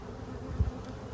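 Honeybees from a freshly caught swarm hum in a low, steady drone close by, with a brief louder rise midway through the short stretch.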